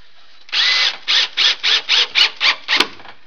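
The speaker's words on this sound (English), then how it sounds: "what I'm doing is I'm driving those screws through the back into the back seat slat" A power drill drives screws through the back into the seat slat of a wooden Adirondack chair, eight loud, short whirring bursts in a quick even rhythm, close up with no talking.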